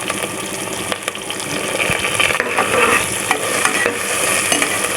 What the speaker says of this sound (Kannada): ಇದನ್ನೆಲ್ಲ ಸ್ವಲ್ಪ ಬಾಡಿಸ್ಕೊಬೇಕು.